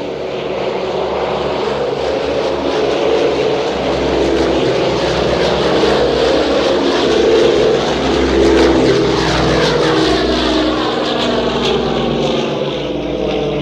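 A B-29 bomber's propeller engines drone loud and close in a heavy, continuous roar with a steady pulsing throb that holds throughout without pause.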